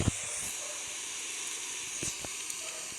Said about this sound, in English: It's an eucalyptus plantation that exists just a couple of miles away from where we began.